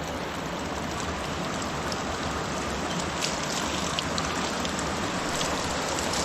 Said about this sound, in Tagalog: At dito po ay sagana sa bukal.